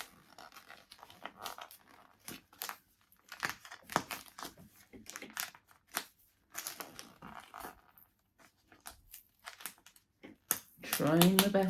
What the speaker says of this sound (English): Okay, ready for the rustling?